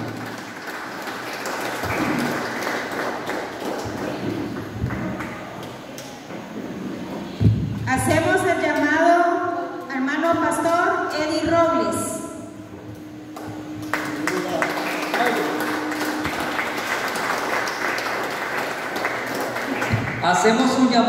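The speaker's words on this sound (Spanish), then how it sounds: "Recibámoslo con un fuerte aplauso" Applause at a church discipleship graduation in Honduras, a dense rain-like patter of many hands that swells for several seconds, with a voice speaking over it partway through.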